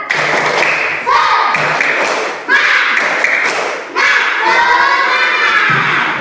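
Schoolchildren in an Indonesian classroom do a rhythmic spirit clap, with loud, repeated bursts of clapping and chanting that come in several surges and are delivered together by the group.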